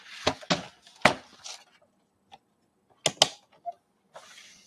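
Scissors cutting out a paper quote, heard as a few close, sharp snips and crunches in short clusters with quiet pauses between them.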